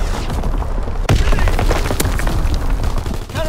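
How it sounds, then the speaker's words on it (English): An artillery strike in Call of Duty: WWII, a loud sudden boom followed by a rapid barrage of thuds and blasts that keeps going under the general battle noise. "Division artillery. Target position confirmed."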